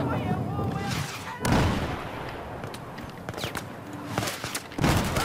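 Rifle fire from an M4 in Battlefield 4 gameplay comes in a few short bursts and single shots among distant battlefield booms, with someone talking over it.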